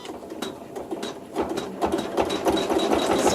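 A sewing machine stitches fabric for bubble quilting, quick rhythmic needle taps close by, picking up speed and loudness toward the end, with no voices.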